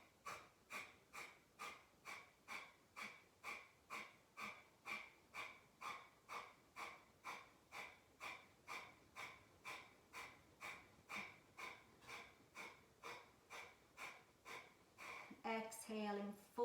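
Yoga fire breath through the nose: a long run of rapid, evenly spaced pumping exhales, about two per second, steady and soft, ending in a brief voice.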